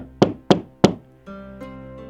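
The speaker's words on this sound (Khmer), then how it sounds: "ទាំងភ័យរួចហើយក៏គោះទ្វារ" Three firm knocks on a wooden door in an even rhythm, followed by a faint sustained tone.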